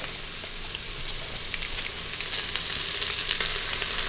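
Rendang paste fried in a pan with garlic for beef rendang, a dense steady sizzle and spatter, close and loud, with faint stirring scrapes and no talk.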